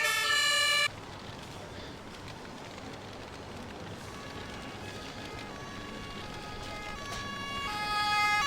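Emergency vehicle sirens wail in the Emergency 4 video game, a steady tonal siren with rising and falling pitch, briefly loud at the start, then quieter and continuous, swelling again near the end.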